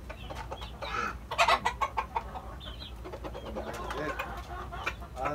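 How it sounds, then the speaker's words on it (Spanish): Roosters clucking excitedly while being fed, the close, busy clucks and squawks coming in uneven bursts, with faint talk in the background. "Miren cómo está él dándole comida a los gallos"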